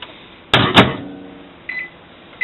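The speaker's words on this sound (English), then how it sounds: "This is what happens when you put soap in a microwave." A microwave oven with a bar of soap inside gives two loud clunks close together, like its door, and then sharp electronic beeps over a quiet hum.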